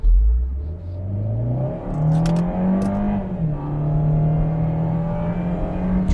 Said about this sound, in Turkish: Ve motor sesini de çok beğendiğimi söylemek istiyorum.